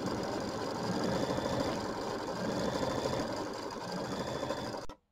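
A home embroidery machine stitches a quilting design on a fabric block with a busy, continuous mechanical whirring and ticking. The stitching runs steadily and close up, then stops abruptly into silence.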